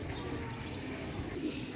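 A Cheena pigeon coos softly amid steady broadband background noise, the calls faint and partly masked, with no talking.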